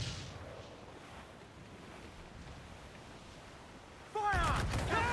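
Ship cannons fire at sea in Assassin's Creed IV. Wind and waves wash quietly for several seconds, then a sudden loud burst of cannon blasts crashes in near the end.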